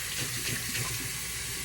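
Hot water runs steadily from a tap into a sink or container for spooling a spinning reel's fishing line, a continuous close rushing hiss with no voices.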